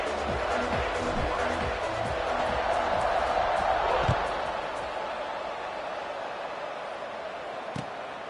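A football stadium crowd roars steadily just before kickoff, a dense continuous wash of cheering with a brief swell near the middle, all under a commentator's voice.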